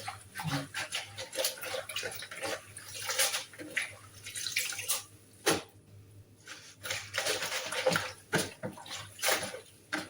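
Water from a home filter splashes and trickles over greens being rinsed in a sink, an uneven stream of splashes and drips close by, with a faint dog barking in the background.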